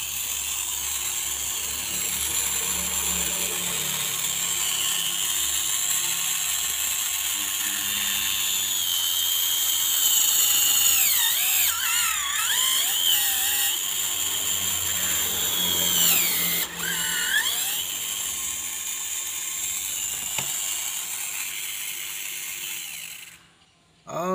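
A small but powerful electric mini drill runs continuously at close range with a high buzzing whine, its pitch wavering as load changes, then cuts off abruptly at the end.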